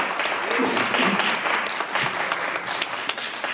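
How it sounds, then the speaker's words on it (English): Audience applause for pageant contestants at an inaugural pageant gala, a dense wash of clapping from a crowd lasting the whole stretch, moderately loud with a voice faintly under it. "Let's give them a round of applause that resonates with the admiration and appreciation they truly deserve."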